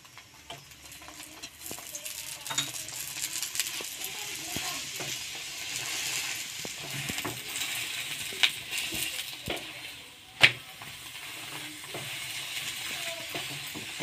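Green pea kochuri, a Bengali vegetarian fried bread, frying in hot oil as more oil is spooned over the top, giving a steady close sizzle with scattered crackles and a sharp clink or two, no voices.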